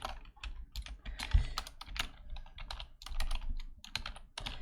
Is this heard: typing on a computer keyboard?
yes